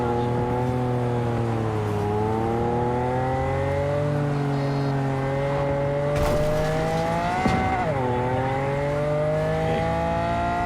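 A stolen car in Cyberpunk 2077 drives steadily with a loud, continuous engine note that rises and falls as it accelerates and corners. The tone swells sharply around a hard turn near the end.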